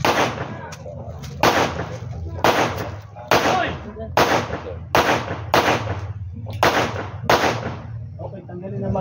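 Gunshots at a Coast Guard K9 shooting range, about nine loud sharp reports in a steady, evenly spaced sequence over a low rumbling background.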